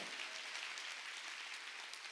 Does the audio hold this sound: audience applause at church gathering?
yes